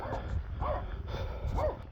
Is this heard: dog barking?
yes